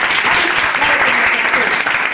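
An audience at a girls' education event in Hilsa claps loudly and steadily, the dense applause sustained throughout, with a faint murmur of voices underneath.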